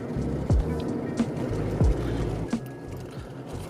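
4x4 vehicle crawling in four-wheel drive up a steep, rocky trail through a burn area in Wyoming: a low engine drone with intermittent knocks and crunches from the tires over rocks.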